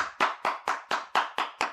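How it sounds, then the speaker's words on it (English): Seven sharp, evenly spaced hand claps in quick succession, close and loud, with nothing else heard. "That's me clapping."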